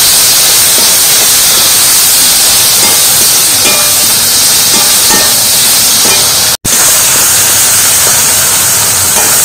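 Chopped water hyacinth stir-fried in spice masala in a pan makes a loud, constant sizzling hiss, broken once by a momentary dropout before the frying resumes.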